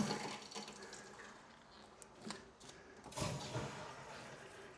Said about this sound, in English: You can hear the water going through.